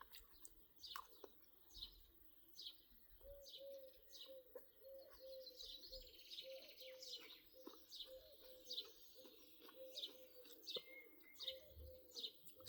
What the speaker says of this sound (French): Ce chant de cet oiseau-là, c'est le coucou ou je sais pas trop quoi.